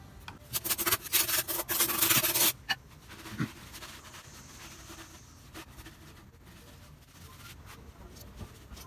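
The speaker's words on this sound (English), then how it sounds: "I've got the edge cleaned up now, the gasket surface" Gasket surface on the rear axle housing of a 1988 GT being scraped clean, a burst of rough rhythmic rubbing strokes for about two seconds, then quieter scattered scrapes and handling noises.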